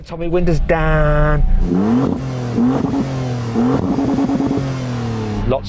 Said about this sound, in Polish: Na razie jednak porównajmy brzmienie tych dwóch samochodów.